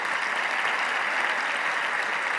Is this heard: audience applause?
yes